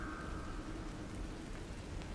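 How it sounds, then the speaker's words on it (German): Steady rain heard from indoors, a soft continuous broadband hiss with no voices, set in a dark candlelit room during a stormy day. "Auch hier klappert der Wind und du kannst den Regen von draußen hören."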